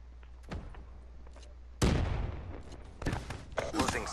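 Shotgun fire in Call of Duty: Black Ops 3 online multiplayer: a sharp close blast followed by a few more scattered gunshot bursts, with someone talking over the game sounds.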